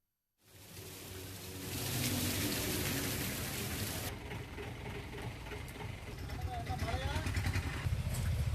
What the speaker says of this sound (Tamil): முதுகுளத்தூர் சுற்றியுள்ள இடங்களில் 1 மணி நேரம் கனமழை பொழிந்தது